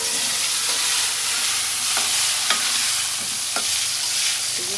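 Eggplant slices fry in a pan with a loud, steady sizzle and hiss, punctuated by a few sharp clicks of stirring, with no talk.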